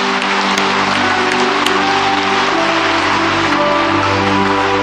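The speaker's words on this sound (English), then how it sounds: "Clap your hands to Jesus." A large church crowd claps continuously and loudly, a dense wash of applause with music faintly underneath.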